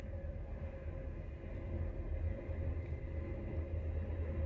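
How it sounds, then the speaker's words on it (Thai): A steady low rumble of a train passing at a distance, continuous and even throughout with no voices. "เสียงรถไฟมา"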